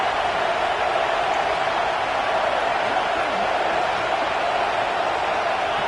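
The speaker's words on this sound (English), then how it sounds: "This crowd is trying to inspire this defense to make a big red zone stop." Stadium crowd at a college football game between Alabama and Ohio State roars steadily to fire up the defense before a red zone stand, a dense, constant wash of cheering noise with no break.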